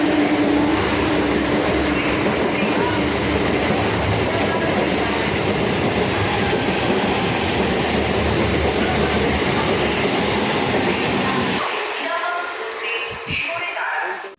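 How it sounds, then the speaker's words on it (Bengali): A passenger train pulls away from a station, a loud steady rumble with clattering wheels that fills most of the stretch, then drops away abruptly, leaving quieter background noise and faint voices. "এই ট্রেনটাতে করেই আমি এলাম, আমি নেমে গেছি, এখন ট্রেনটা চলে যাচ্ছে।"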